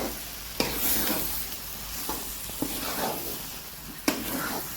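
A pot of chicken gravy with horse gram gets stirred, with several sharp scrapes and knocks of the spoon against the pot over a low, steady bubbling sizzle.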